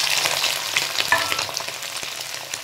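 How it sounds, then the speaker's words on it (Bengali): Soy chunks hit hot oil in a kadai and fry with a dense, close crackling sizzle that continues throughout, with occasional sharper pops and no voices. "কড়াতে তেলও দিয়ে দিয়েছি, তেল গরম হয়ে গেছে, আমি এই সয়াবিনটা এর মধ্যে ছেড়ে দিচ্ছি"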